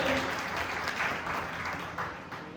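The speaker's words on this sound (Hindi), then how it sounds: "जोरदार तालियां हो जाएं आदरणीय भाई साहब के लिए।" An audience at a Gahoi community gathering applauds loudly and continuously, a thick, even roar of many hands clapping together that holds steady for the whole stretch.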